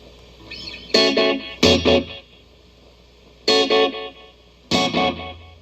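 Vintage Echolette NG51 S Golden Box tube tape delay producing echo tones, with four loud bursts of repeating, ringing harmonic notes separated by quiet gaps, the echo tone shifting between darker and brighter settings.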